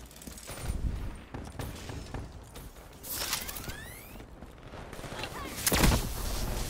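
Video game gunfire in a chaotic multiplayer moshpit match, repeated bursts and a few loud shots over dense background game noise, with some talk.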